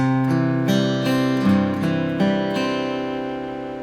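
Bass notes picked one at a time on a guitar, each ringing into the next in a steady, unhurried pattern, close and clear with no talking.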